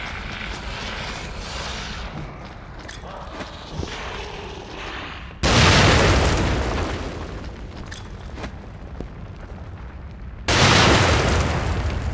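Grenade explosions in The Evil Within video game, two loud booming blasts several seconds apart, each decaying into a rumbling tail over ongoing game ambience.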